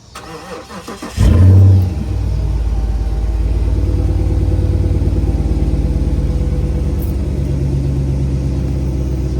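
A Dodge Charger R/T engine cranks and fires with a loud burst at start-up, then settles into a steady, deep rumbling idle with slight revving, close and alone.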